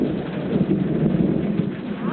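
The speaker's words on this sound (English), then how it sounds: "Thunder." Thunder rolls through a rainy night at a Varadero beach resort, a loud deep rumble swelling and fading over steady pouring rain, with no voices.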